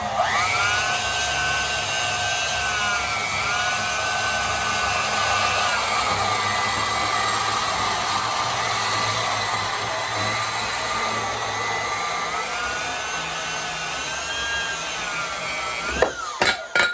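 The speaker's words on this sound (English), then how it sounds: "So, got a lot of cutting to do. All right, let's cut this baby down." A powered saw cutting through parts of a 1956 Ford Thunderbird, a steady whining, grinding drone held for about fifteen seconds with slight pitch shifts, close and loud, ending in a few sharp clanks.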